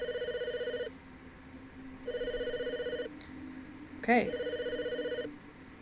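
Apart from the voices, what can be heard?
telephone ringing in The Fridge is Red video game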